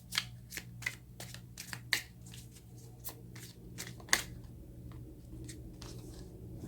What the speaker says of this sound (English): the cards do not want to shuffle